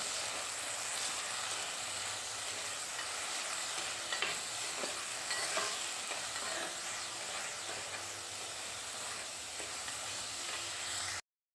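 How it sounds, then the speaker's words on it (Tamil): Curry leaves and tomato sauté and sizzle in a clay pot, a continuous bright frying hiss with occasional stirring scrapes, close and steady for about eleven seconds, with no talking. "நம்ம கருவேப்பிலை, தக்காளி சேர்த்துக்கலாம். இது நல்லா ஒரு 2 நிமிஷம் நல்லா வதங்கட்டும்."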